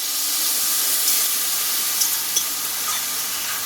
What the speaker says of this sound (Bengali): এইবার এইখানে দিয়ে দেবো আমি পরিমাণ মতো জল